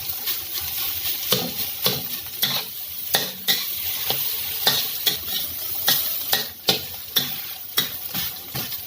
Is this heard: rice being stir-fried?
yes